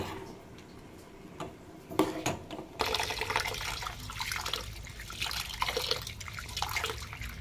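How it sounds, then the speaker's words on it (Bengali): Running water pouring while rice is washed in a home kitchen, a few faint clicks and drips at first, then a sudden onset of a steady splashing stream that continues to the end, close, with no talk. "চালটা ধুয়ে নি ফলে জল পড়ছে"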